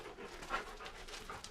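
A dog pants steadily at close range inside the Last Chance Mine in Creede, Colorado, a big underground stope, with quick soft breaths and a faint whimper partway through.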